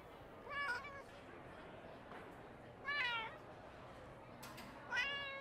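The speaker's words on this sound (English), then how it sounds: "It really is a cat." A cat meows three times over a steady background hiss, with the cries spaced a couple of seconds apart. Each meow is drawn out and fairly clear, and no one speaks.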